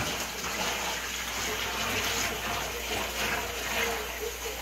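Water gushes steadily into a bucket for winemaking, making a continuous close splashing rush at moderate volume, with no talk.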